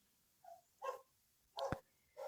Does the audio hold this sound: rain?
no